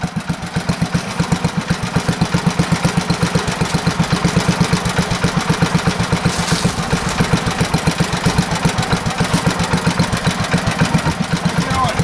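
An old Moto Mower tractor from around 1958, fitted with a John Deere snow plow, idling with a steady, rapid low chugging beat from its small engine, close and continuous, with a voice speaking over it.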